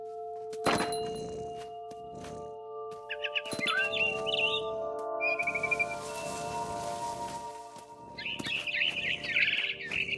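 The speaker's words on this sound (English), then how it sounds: "Then I heard chirping outside my window. It was a barn swallow going back to her nest." Barn swallow chirps in the video game What Remains of Edith Finch, short bright tweets in scattered bursts between dull thunks and tonal in-game sounds, moderately close.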